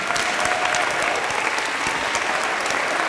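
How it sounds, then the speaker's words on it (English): An audience at a poetry reading applauds the readers, steady close clapping with no pauses throughout. "Will you just stand up and round of applause,"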